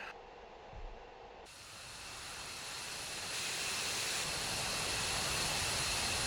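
Jet aircraft rolling out for takeoff in the DCS flight simulator, engine roar and broadband hiss swelling steadily louder and more dense as power builds, heard alone without talk.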